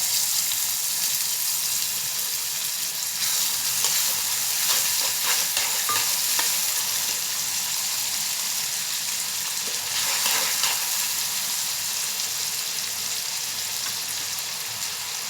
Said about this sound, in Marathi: तेलामध्ये आपण आता कांदा टाकून घेऊया.